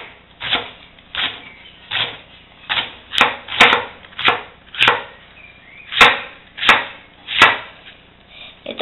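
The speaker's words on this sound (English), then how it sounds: "that's how you just slice it into thin. It's like a strip," Close, steady knife cuts as a hard-cored vegetable is sliced into thin strips on a board: a run of about a dozen firm, rhythmic thuds, each a blunt chop, evenly spaced and heard alone without any voices.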